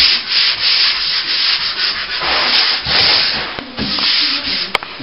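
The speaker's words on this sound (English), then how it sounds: "just doing a bit of sanding in the angles in the arch" Close, steady sanding of fresh plaster in the inside angles of a Victorian-style archway, a continuous rasping scrape with rhythmic back-and-forth strokes and a few sharp knocks, heard alone with no talk.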